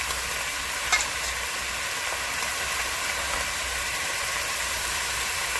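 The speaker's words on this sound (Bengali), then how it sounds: "দিয়ে দিচ্ছি কাঁচা লঙ্কা" Green chillies added to a pan of frying vegetables in a home kitchen, giving a steady, dense sizzle and crackle with a few soft clinks early on and no talking.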